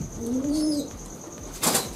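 Pigeon giving a short low coo, followed by a brief burst of wing flapping, close by and fairly loud with no talk.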